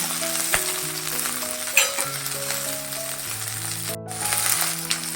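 Green chillies sautéing in oil in a pan for thecha, a continuous close crackling sizzle with scattered pops and occasional stirring scrapes, under quiet background music and with no talking.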